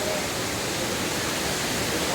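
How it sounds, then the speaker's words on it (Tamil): Heavy water from the Suruli waterfall pours down in a steady, dense roar that fills the whole stretch without a break, loud and close. "இது நீர் வந்து அருவி மிக அதிகமாக கொட்டி கொண்டிருக்கிறது"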